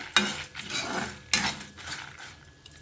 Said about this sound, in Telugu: ఎండుమిర్చి వేసేస్తున్నాను